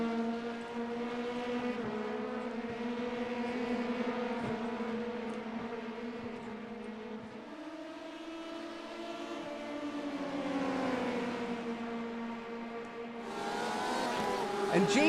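LMP prototype race cars in a racing video game at Daytona howl through the corners and onto the banking, engines rising and falling in pitch with gear changes, a louder car sweeping past near the end under a commentator's voice.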